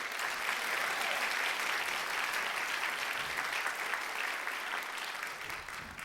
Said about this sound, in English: Crowd of applause.